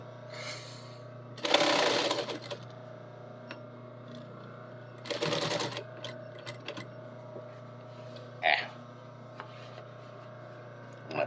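A sewing machine runs in two distinct bursts of stitching as a seam is sewn past a zipper, loud and close over a steady low hum, with quieter clicks and handling noises in between.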